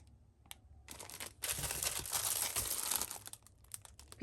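Small 20 by 30 plastic bags are handled for packing knitted toys, producing close, crisp crinkling that swells into a dense rustle for a couple of seconds before tapering into lighter, scattered crackles.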